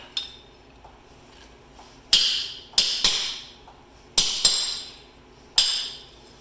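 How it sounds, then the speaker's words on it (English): Sharp metallic hammer strikes ring out on sheet metal, hammering out a dent during front CV axle removal on a 2003 Toyota 4Runner, several blows in small bursts of two with gaps between, loud and near. "If you want to fix the little dimple that you made, you can always get a hammer."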